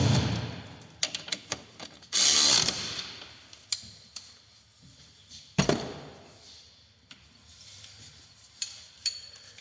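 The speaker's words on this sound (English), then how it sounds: "So we get the spanner on that this time." A spanner ratchets on the engine mount bolts of a Smart 451, giving sharp metallic clicks and clanks in irregular bursts with one louder rattling stretch, close by and without speech.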